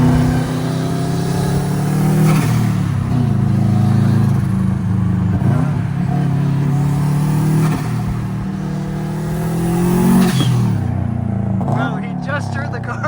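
A BMW 335is with a modified exhaust idles loudly and revs in several rising bursts, its deep engine tone swelling and falling close by, while people talk excitedly over it outdoors.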